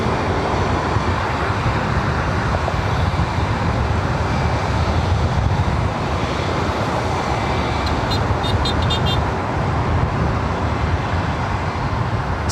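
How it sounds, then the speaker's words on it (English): A Lufthansa Boeing 747 comes in to land at LAX, a continuous broad jet roar mixed with airport background noise, steady and moderately loud with no talk. "I have never witnessed a landing like that, no matter what aircraft, especially with the Queen"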